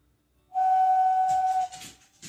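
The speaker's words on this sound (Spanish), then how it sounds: "El silbato tapado por completo, o sea, la primera nota que logramos hacer va a ser nuestro do." Clay ceramic whistle sounding its lowest note with every hole covered, a single clear steady tone held for about a second, followed by soft handling noise.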